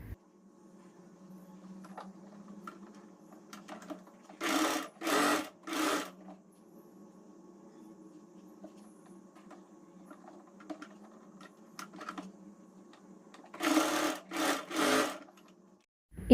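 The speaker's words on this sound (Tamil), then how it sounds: "இப்போ நம்ம ஷோல்டர் வந்து ரெண்டுத்துக்கும் வந்து அட்டாச் பண்ணி ஸ்டிச் பண்ண" A sewing machine stitches the shoulder seam of an Anarkali dress made from an old silk saree, with a few short close bursts of rapid whirring separated by quiet handling and a faint hum.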